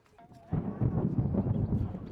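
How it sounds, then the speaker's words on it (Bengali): Thunder rolls in during a lightning storm in the hills around Bandarban, starting as a sudden deep rumble and then sustaining a heavy, booming roar close by, with no voices over it. "ও আমি ভয় পেয়ে গেছি এখানে হচ্ছে বিদ্যুৎ চমকাচ্ছে"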